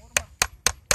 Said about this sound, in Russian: Молоток держит мастерски.